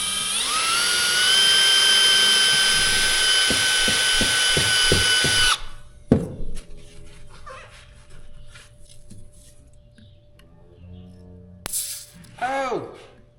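A power drill bores out a hole in a pin, whining loudly and steadily at close range for several seconds with a few rhythmic pulses near the end, then cutting off; clanks and rustles follow as the work continues.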